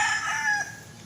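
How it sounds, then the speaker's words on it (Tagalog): A three-year-old White Kelso gamecock in a backyard gives a single crow, loud and close, a strained rising call that fades after about half a second. "Meron po tayong manok na bloodline ay"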